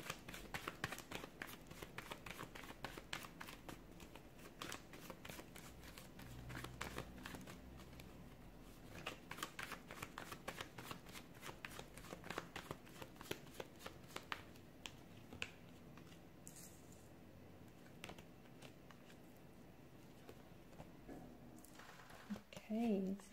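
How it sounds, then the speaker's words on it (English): Tarot cards are shuffled by hand in a long run of crisp, rapid riffles and soft slaps that repeat steadily for over twenty seconds, close to the microphone, ending with a short rustle. "give the cards a shuffle and begin"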